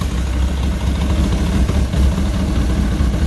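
Yamaha RX-1 snowmobile engine running at a steady idle, a dense low rumble that holds constant throughout, close and loud with no talking.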